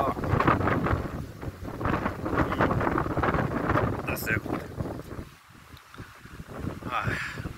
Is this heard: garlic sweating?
no